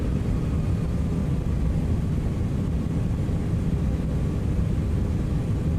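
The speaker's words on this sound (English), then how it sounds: "Taxiing up here." In X-Plane 12, an airliner taxis with a loud, continuous engine rumble, low and steady with a faint whine on top, heard alone without talk.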